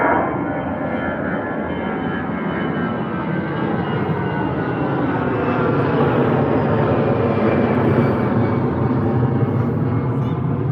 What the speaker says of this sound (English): We've got Aer Lingus here heading out to Cork on the A320 for Aer Lingus